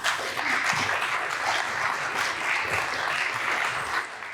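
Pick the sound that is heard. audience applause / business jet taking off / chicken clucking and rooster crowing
audience applause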